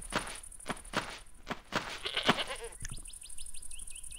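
Goat bleats in the game Goat Petting Simulator, a run of short rhythmic bleats near and fairly loud over an outdoor ambience of chirping birds.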